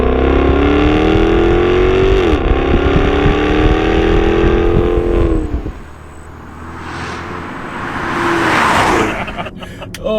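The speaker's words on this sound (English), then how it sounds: "Oh, that exhaust." A Jaguar XK-RS revs hard and close, its exhaust rising through a couple of gears before the engine drops back to idle and a burbling pass fades in the distance.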